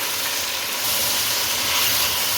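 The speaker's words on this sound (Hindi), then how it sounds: "अब प्याज को इसके अंदर फ्राई करें" Finely chopped onion frying in a pan for black pepper chicken curry makes a continuous, fairly loud sizzle with soft crackle, heard alone without talk.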